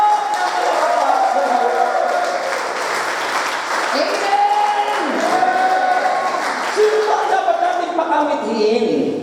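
A church congregation at an El Shaddai Friday fellowship in Kuwait bursts into sustained, loud applause that fills the room, with steady voices and tonal music or singing mixed through it.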